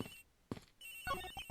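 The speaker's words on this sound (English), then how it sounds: "Sounds like the phone is up the flight attendant's room." Telephone bell ringing inside a video game, several short electronic ring bursts separated by brief gaps, moderately quiet and alone without speech.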